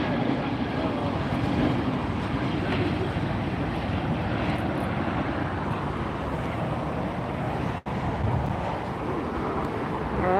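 A Frontier Airlines jet in special livery at LAX fills the air with a steady, broad engine roar heard from outdoors, mixed with wind noise on the microphone, one brief dropout in the middle.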